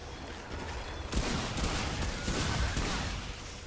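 Gunfire in the co-op shooter game Remnant 2, a few muffled shots and bursts over a dense, noisy background of game sound, moderately loud.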